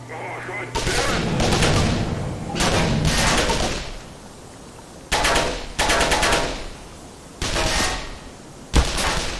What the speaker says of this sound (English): Damn it, I actually got shot.